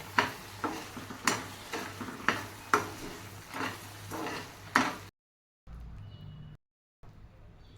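Saffron-soaked milk is stirred into a thick khoa peda mixture in a pan, making a series of rhythmic scraping strokes with soft sizzling, followed by brief quieter pauses.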